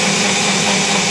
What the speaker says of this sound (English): this is my blender right here, and I put it on the pyure setting